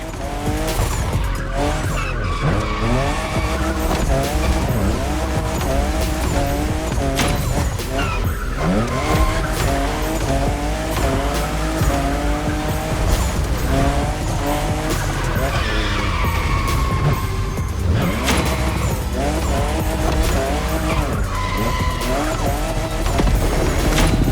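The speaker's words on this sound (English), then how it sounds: "I'm just in love with what Toyota did with this new Supra, the 5th generation of a myth." A Toyota Supra, fifth generation, races through The Crew Motorfest with a loud, continuous engine whine that rises and falls through gear changes, while tires squeal and skid repeatedly in the corners.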